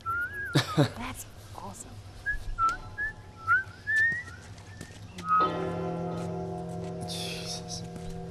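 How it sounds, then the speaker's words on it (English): A game character whistles a short, wavering tune in a few brief phrases, with cattle lowing and birds nearby, while a person comments briefly over the scene. "I'm whistling."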